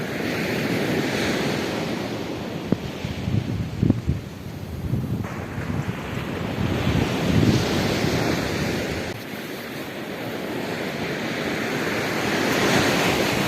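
Morning ocean waves wash onto a beach on a pink granite coast, surging and receding in broad rolling swells, with gusts of wind buffeting the microphone and no talking.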